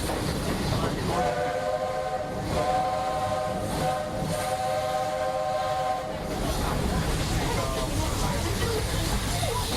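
A steam whistle sounds for several seconds over the continuous rumble and clatter of the moving Walt Disney World Railroad train, with a steady noisy background throughout.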